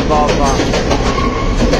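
A Sri Lankan passenger train on the Colombo to Kandy line runs near tunnels, with a loud, close, continuous rumble and rhythmic clatter of wheels on rails.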